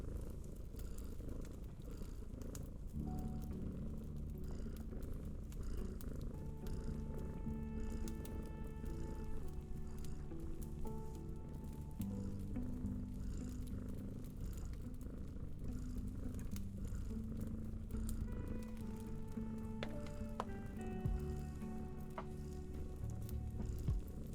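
A loud, continuous cat purr rumbles up close for the whole stretch, with faint tonal sounds drifting in the background and no talking.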